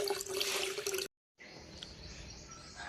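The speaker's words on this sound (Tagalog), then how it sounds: "Ako po nang nagsalod sa tubig guys." Water runs from a tap into a container, a splashing, gurgling flow that cuts off abruptly for a moment and then resumes more softly, close by.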